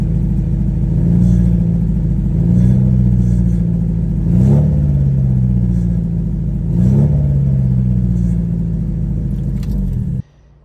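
A Honda Accord with a bad exhaust idles loudly and unevenly up close, with a rough, rumbling note that swells in periodic surges roughly every two seconds before cutting off abruptly near the end.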